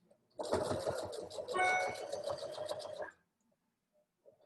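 A sewing machine stitching a Christmas stocking runs with a steady mechanical whir and rapid needle clatter for about three seconds, then stops, leaving near silence with a couple of faint clicks.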